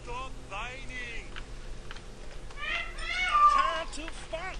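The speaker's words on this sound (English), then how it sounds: "Shut up, cat." Cat meowing in the video game Evil Genius, a few short whiny meows over a low steady game soundscape and background hum, moderately loud, no talk.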